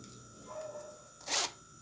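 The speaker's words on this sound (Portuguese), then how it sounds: "Aqui tem um zíper aqui do lado também" A side zipper on a pair of men's shorts gives a single short, rasping zip. It is close and brief, after a few quiet fabric rustles.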